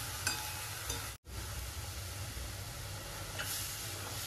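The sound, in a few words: fenugreek leaves being sautéed in a pan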